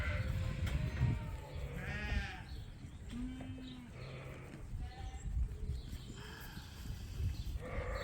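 Sheep bleat on a farm, several wavering calls spaced across the stretch, some nearer and some farther off, over a low rumbling background and faint stirring.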